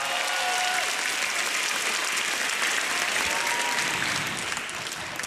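A large studio audience applauds stand-up comedians at a televised comedy grand final, a dense, loud, sustained roar of clapping that eases slightly toward the end.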